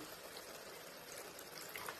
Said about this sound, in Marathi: आपण थोडंच पाणी वतले जास्त वतलेलं नाही